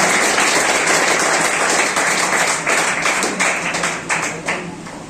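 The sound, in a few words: applause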